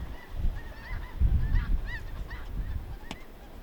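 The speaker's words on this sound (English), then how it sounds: "If you can see them geese." A flock of geese honks repeatedly at a farm in early spring, several overlapping calls at moderate distance over low outdoor rumble and wind.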